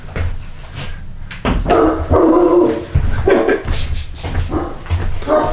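A pet dog barks repeatedly to be let outside, several sharp, close barks in an irregular burst with faint indoor noise around them.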